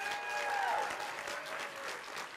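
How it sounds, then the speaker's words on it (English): Audience applause at a youth climate summit plenary session, a dense steady clapping that fills the whole stretch and stays fairly loud throughout. "Can we give him another round of applause?"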